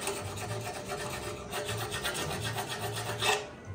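A small rat-tail file rasps against metal up close, a series of quick, even scraping strokes repeating in a steady back-and-forth rhythm, fairly quiet.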